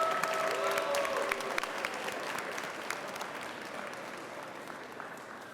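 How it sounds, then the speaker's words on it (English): An audience at a disability and employment press conference claps for Georgians with disabilities standing behind the podium, steady mid-distance applause that fades gradually over several seconds with no voices on top. "Please give them a round of applause."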